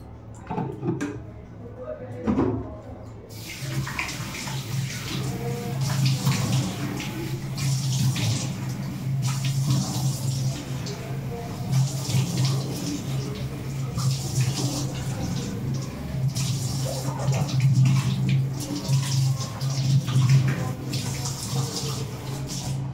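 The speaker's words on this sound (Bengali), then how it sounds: "এবার শুধু নর্মাল জল দিয়ে নিব।" Tap water running in a home sink while a face is rinsed, a steady splashing flow with occasional handling knocks, and a person talking over it for much of the time.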